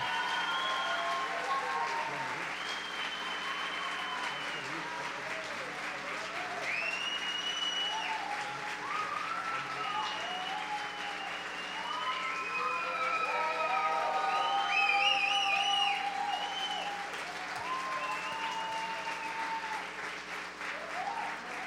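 Church congregation applauding steadily throughout a morning service at a Brazilian conference, a dense, sustained wash of clapping with occasional cheers and scattered voices mixed in, at a fairly even level from start to finish.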